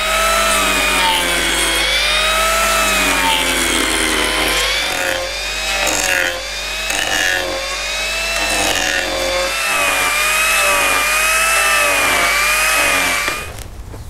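Arbortech TURBOPlane power carver shaving the outside edges of a solid wood tray, a loud continuous high-pitched whine with a wavering, rising and falling tone as the cutter bites and eases, ending abruptly near the close.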